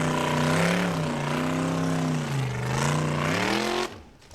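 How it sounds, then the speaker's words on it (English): A Formula Offroad vehicle, the Raptor, revs hard on a hill climb at an Icelandic competition in Egilsstadir, its engine whining loud and steady with pitch rising and falling, then cutting off abruptly near the end. "Next up we have Atli Jamil driving the Raptor."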